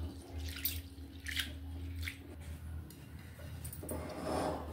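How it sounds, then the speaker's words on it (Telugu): Soaked chana dal being washed in water for a festival poornalu sweet, with a few soft splashes and swishes over a steady low hum, growing into a fuller rush of water at the end. "ముందుగా నీళ్ళు పోసి బాగా కడిగి 2-3 సార్లు అప్పుడు నానబెట్టుకుందాం"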